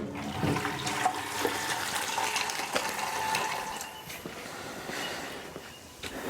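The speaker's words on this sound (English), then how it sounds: "So I put the cold water in first, then the hot tap water." Tap water gushing steadily into home brewing fermenters during cleaning, a continuous splashing rush with faint clunks and knocks, close by and with no one talking.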